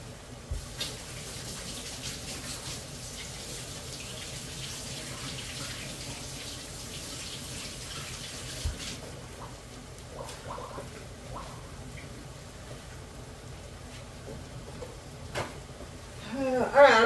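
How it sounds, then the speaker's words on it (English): Water runs from a kitchen tap as hands are rinsed, a steady broadband hiss through most of the clip, with faint talk and clatter near the end. "let me go rinse my hands off"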